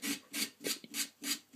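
A leather snooker or pool cue tip is sanded with five quick, even rasping strokes, each a short dry scratch close to the ear, with no talk.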